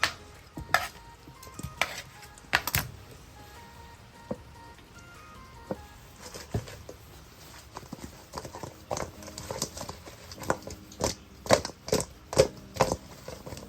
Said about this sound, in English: Come back in with these wings, toss them while they're hot.